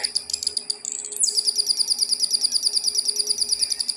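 A homemade electronic bird-sound circuit: a shrill electronic twittering steps up in pitch as power is increased, then settles into a fast, evenly pulsed bird-like chirp, loud and close.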